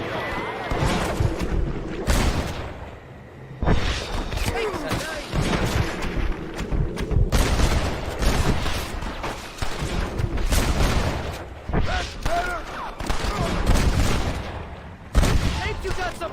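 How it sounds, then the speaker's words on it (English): Shootout gunfire in Red Dead Redemption, with attackers firing down from a cliff: loud, dense volleys of shots and booming reports come in repeated bursts, with people shouting over the fighting. "They're shooting down on us!"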